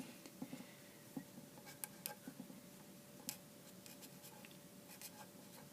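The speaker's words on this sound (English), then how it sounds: "So I'm going to write down that prediction." Pen writing on paper, close and quiet, with light irregular scratches and small taps over a faint steady room hum.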